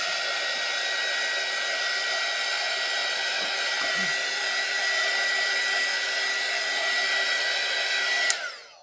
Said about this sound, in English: I have this little blower that came in one of the kits, and then I just dried that